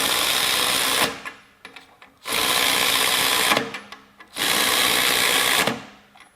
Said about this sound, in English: So now we'll do the first one with the new M12 high-speed ratchet.